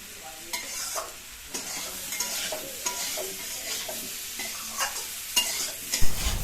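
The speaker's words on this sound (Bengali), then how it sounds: "মানকচু কষাতে একটু টাইম লাগে মোটামুটি তিন চার মিনিটের মধ্যে হয়ে যাবে" Boiled giant taro (mankochu) stir-fried with salt and turmeric in a pan, frequent sharp spatula scrapes and knocks over a low sizzle, close and irregular, ending in a louder clatter.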